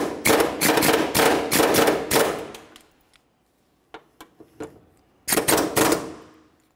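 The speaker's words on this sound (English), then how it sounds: "Now I'll use my air chisel, remove the rest." Rapid pneumatic hammering from an air chisel removing a door rivet on a 2001-2005 Ford Explorer Sport Trac comes in loud bursts, a long rattling run, then a few short taps, then another sharp burst, close by.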